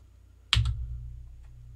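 A single sharp computer keyboard key press, F12, lands as a crisp near click with a quick second tick, alone in a quiet room.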